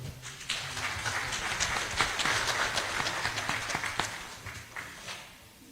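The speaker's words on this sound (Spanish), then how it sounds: "les pedimos recibirlo con un fuerte aplauso" Audience applause welcoming a speaker at a panel forum on El Niño, dense sustained clapping from a crowd throughout, fairly loud and steady before tapering off near the end.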